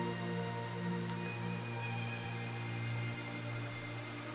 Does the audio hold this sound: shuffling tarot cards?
no